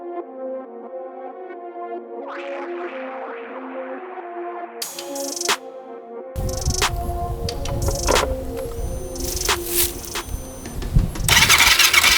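A 700cc quad's engine cranks and turns over on a weak-sounding battery, then catches and runs with a rough, loud idle and sharp revving bursts, close by with no talking.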